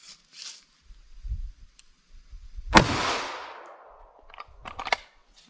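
A 9mm pistol with a 5-inch barrel fires a single Federal HST jacketed hollow point round into ballistic gel, one sharp loud crack with a ringing decay, framed by faint handling clicks before and after.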